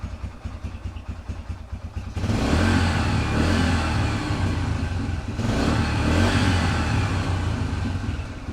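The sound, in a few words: dirt bike engine idling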